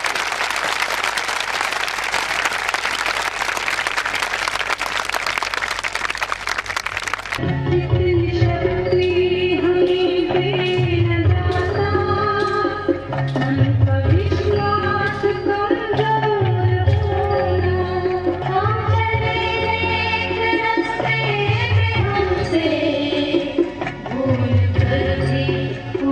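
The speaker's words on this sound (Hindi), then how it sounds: "जोरदार तालियां भाई" An audience claps loudly and continuously at a school result celebration, a dense sustained burst of applause, followed by loud music with a strong beat that takes over and plays on.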